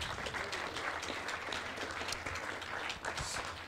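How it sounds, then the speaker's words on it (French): An audience at a cinema and talk event applauds a returning guest speaker, a steady dense wash of clapping from many hands throughout, moderately distant with no voices over it. "qu'on peut applaudir encore, s'il vous plaît."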